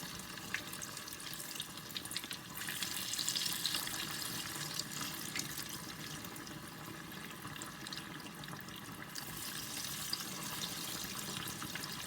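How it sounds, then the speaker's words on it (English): Banana and pineapple puff balls frying in hot oil in a pot over medium heat, a continuous rushing sizzle close by that holds steady throughout. "just put it there and allow it to fry"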